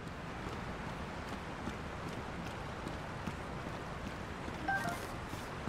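A waterfall rushes in a cave in The Legend of Zelda: Tears of the Kingdom, a steady, even broadband roar that fills the whole stretch with no breaks and no voices.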